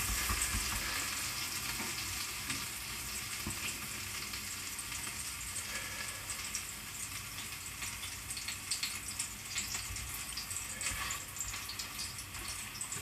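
Unleavened bread cooking in butter in a hot pan, a steady close crackling sizzle that runs throughout with faint scattered pops, no talk.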